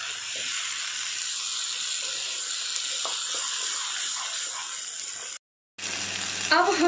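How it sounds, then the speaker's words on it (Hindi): Minced meat keema frying over high heat in ghee, a steady, close, continuous sizzle and hiss that cuts out briefly near the end before resuming with a louder crackle. "इसको तेज आंच पे ही अच्छे से भूनना है, घी छोड़ने तक।"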